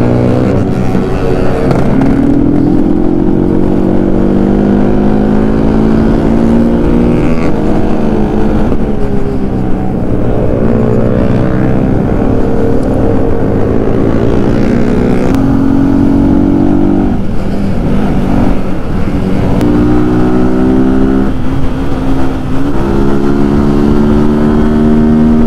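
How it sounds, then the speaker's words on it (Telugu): A Yamaha R15 V3 motorcycle fitted with an SC Project full exhaust system, loud and close throughout, its harsh engine note rising and falling through repeated revs and gear changes on a ride. "R15 వెర్షన్ 3కి SC ప్రాజెక్ట్ ఫుల్ సిస్టమ్ ఉంది. సౌండ్ దారుణంగా ఉంది."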